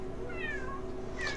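A cat in The Sims 3 Pets meows twice in quick succession, a short rising-falling cry followed by another brief mew, close and clear over a faint steady game background hum.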